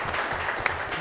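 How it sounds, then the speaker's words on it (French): Audience at a student games final applauding to welcome a contestant, a soft, steady patter of clapping with one brief sharper clap standing out. "Merci beaucoup également d'applaudir et d'accueillir Germain."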